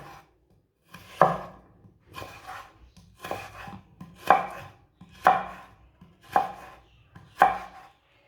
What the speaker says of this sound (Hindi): आलूओं को ना इसी तरह काटना है, लंबे लंबे पीसों में।